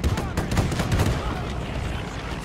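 Dense battle gunfire from Men of War 2, with rapid overlapping shots and rumbling booms in a loud, continuous wash that fades slightly toward the end.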